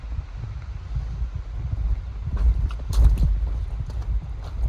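Strong wind gusts across a mountain summit on the New England Appalachian Trail, buffeting the microphone in low rumbling surges that build and peak midway, with no talking.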